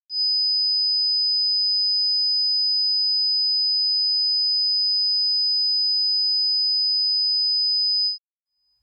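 A piercing high-pitched 5000 hertz tone rings steadily and alone for about eight seconds, then cuts off cleanly.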